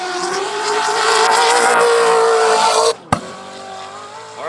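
A Baja 1000 off-road race vehicle roars past at full throttle, its loud, sustained engine sound building as it nears, then cutting off abruptly, followed by a sharp thud.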